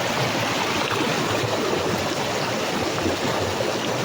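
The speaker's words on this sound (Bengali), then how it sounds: "এই যে এই জলের স্পিড আছে এখানে" Loud, continuous rush of fast-flowing water from a waterfall-fed stream, a dense unbroken churning roar close by with no voices.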